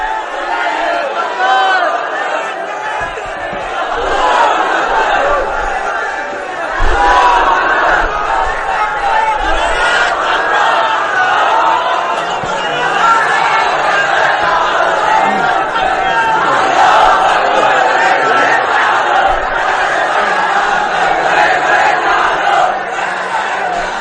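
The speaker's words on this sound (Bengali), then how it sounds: "স্লোগান লাগবে। স্লোগান দেন একজন।" Crowd voices rise together in a sustained, dense roar of chanted slogans at a religious gathering, steady and fairly loud throughout with overlapping shouts.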